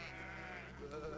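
Sheep bleating in the war video game Valiant Hearts, a dense, continuous wavering cry filling the short clip at moderate loudness, with no clear talk over it.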